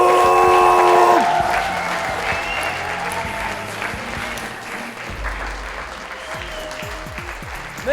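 A studio audience on an Armenian edition of the Minute To Win It game show claps in a full burst of applause that gradually thins and fades over several seconds.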